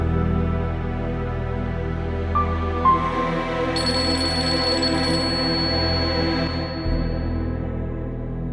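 Phone ringing with an incoming call: a steady electronic ringtone with sustained high tones and a short melodic phrase, set against a low background hum, ending when the ringing cuts off.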